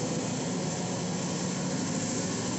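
A Caterpillar CAT 320 excavator's four-cylinder engine drones in a steady, loud, broadband roar with no change across the clip, heard alone, during pond and canal digging in Sisaket, Thailand.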